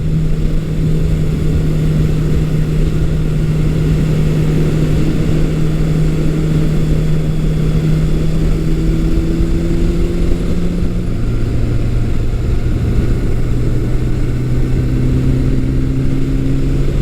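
A Suzuki GS750 vintage motorcycle engine drones steadily while riding through corners, its pitch shifting slightly between transitions with a constant loud hum and a rushing wind noise layered over it.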